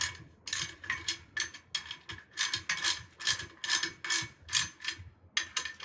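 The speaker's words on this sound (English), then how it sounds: "you can tighten these with the drum key pretty tight" A drum key tightens the square-head clamp on a Gibraltar gong stand with close, crisp ratcheting clicks in a steady run of about a dozen quick bursts.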